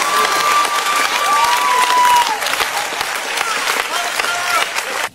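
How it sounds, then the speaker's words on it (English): Applause from a church congregation during a deliverance service, steady dense clapping with some cheering and a few voices throughout, loud and sustained for about five seconds before cutting off. "Clap for Jesus"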